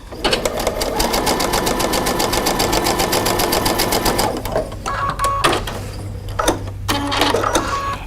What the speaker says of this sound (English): So in this one, you're going to just sew.